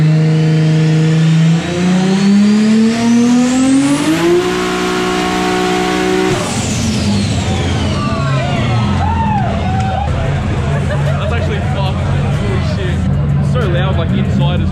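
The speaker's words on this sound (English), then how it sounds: "it sounds like a big GTR is going to do a dyno run" A big, roughly 1000-horsepower Nissan GT-R roars on a dyno at a racing shop open day. The engine climbs steadily in pitch to a high rev, then falls into a loud, rough, burbling drone, with crowd chatter around it.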